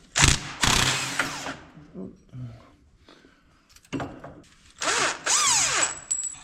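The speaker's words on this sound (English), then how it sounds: "you can probably just get like a wobble drive or something like that, one of those wobble extensions in there, and use an impact" An impact wrench loosens a nut during front wheel bearing work on a KRX utility vehicle, firing in several short, loud rattling bursts separated by pauses.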